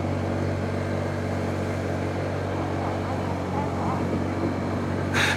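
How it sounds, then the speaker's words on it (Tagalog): A motorcycle engine labors steadily on a rough rural road near Aguilar, Pangasinan, with a constant rumble and wind noise and no break. "Hirap ang ating motor."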